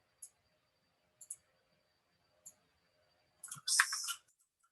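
A computer mouse clicks a few times, single and double clicks spaced apart, near and quiet, while working in Eagle CAD PCB design software, ending with a brief louder burst of handling noise.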